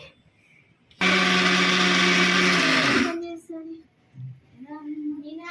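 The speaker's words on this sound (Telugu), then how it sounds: "ఇప్పుడు వేపుకునేవి ఇలా గ్రైండర్ పట్టుకోవాలి" A mixer grinder whirs loudly for about two seconds as it grinds roasted urad dal, then stops, and someone speaks afterward.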